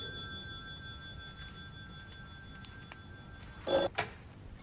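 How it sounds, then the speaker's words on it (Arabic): A telephone rings in a home scene from an Arabic drama series, a short electronic burst heard once clearly after a stretch of steady room tone, with a second brief chirp just after. "ردي على التلفون"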